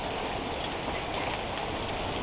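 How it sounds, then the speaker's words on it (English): Hail pelting a truck in a storm near Wagner Butte, a steady dense patter of small hard impacts filling the whole stretch at moderate level, with no voices. "Oh, look at this hail."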